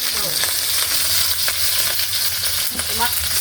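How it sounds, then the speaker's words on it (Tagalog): Pork ribs frying in hot oil, a dense continuous sizzle with scattered pops of spattering grease and occasional scrapes of a utensil, close and fairly loud with no voices. "Tumatalsik po yung mantika mga idol"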